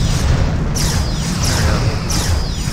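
Torpedo explosions in a starship battle in Star Trek Bridge Commander, three loud booming blasts roughly a second apart, each with a sweeping hiss layered over a deep continuous rumble.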